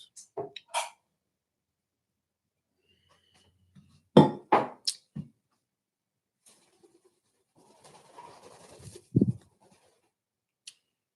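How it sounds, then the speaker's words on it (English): A pet bird chirps and coos indoors in the morning, giving scattered short, sharp calls in brief bursts separated by quiet gaps, with a soft rustling stretch near the end; close and moderately loud, with no talking. "That's my bird enjoying himself this morning."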